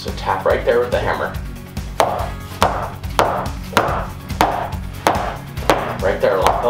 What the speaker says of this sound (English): tap right there with the hammer